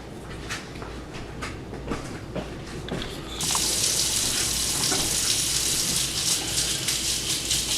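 Hot water from a sink tap pours into a warm cast iron skillet, a loud steady hiss and splash that grows fuller partway through, with no talking.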